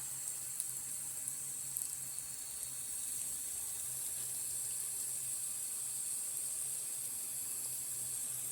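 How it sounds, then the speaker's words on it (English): A garden water hose set to its light mist spray wets a planting bed outdoors, giving a steady soft hiss of fine water that runs evenly from start to finish, fairly faint and alone. "I have my water hose on the light mist notch, it's very easy to sit here and water"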